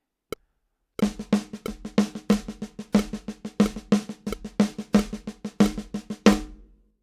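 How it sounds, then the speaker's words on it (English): A drummer plays paradiddle sticking over a Syncopation-book rhythm, producing a quick, continuous run of close snare strokes with louder accented hits poking out of the softer notes. One isolated hit comes first, then the steady pattern, ending on a strong stroke. "keep those same accents, but use paradiddles, it would sound like this."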